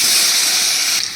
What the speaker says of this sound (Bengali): আলু আর কচুগুলো দিয়ে দিচ্ছি এই তেলটার মধ্যে।